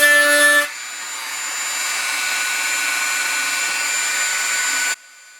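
A Dremel 4300 rotary tool grinding off a bit of metal gives a loud, steady high-pitched whine that runs unbroken for about four seconds, then drops off as the tool stops.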